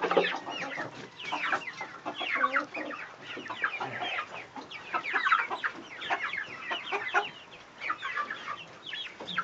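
A flock of chickens clucks busily and continuously close by, overlapping chatter with occasional louder squawks.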